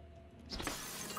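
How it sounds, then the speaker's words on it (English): Glass shatters in the video game Prey: a sudden bright crash about halfway through, followed by a lingering spray of tinkling shards over low ambient hum. "Of course you just be able to break the glass."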